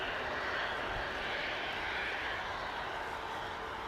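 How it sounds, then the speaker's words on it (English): An EasyJet airliner taxiing at Manchester Airport gives a steady, broad engine roar and whine that holds even and fairly loud throughout, with no voices over it. "EasyJet going for a little trundle down the taxiway."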